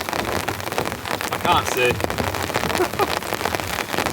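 Rain patters steadily on a tarp stretched over a tent at a stormy campsite, a dense, constant hiss with wind. Brief voices and a few faint chirps come through partway.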